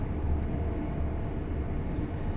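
A Class 801 LNER Azuma train runs in Train Sim World 4 on the East Coast Main Line, giving a steady low rumbling drone with constant loudness and no speech.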